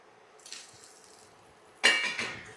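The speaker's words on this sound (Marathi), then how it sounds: "या फोडणीमध्ये आपण शॅलो फ्राय केलेल्या वड्या टाकून घेतो" Shallow-fried coriander vadis drop into a hot mustard, cumin and sesame tempering, setting off a sudden loud sizzle after a quiet stretch, then a second sizzling surge that slowly settles.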